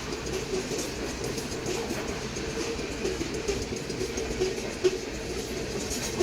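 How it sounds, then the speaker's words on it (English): A CSX freight train passes with an SD70ACE distributed power unit locomotive working hard in a high throttle notch, a steady low engine rumble under continuous rolling rail noise, with one faint clack near the end. "Here comes the distributed power unit here in a second. Running pretty high gear"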